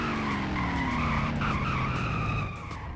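A car in a Roblox driving game brakes hard at top speed. The tires screech in a long continuous skid over the engine drone for about three seconds, loud and close, with no voices.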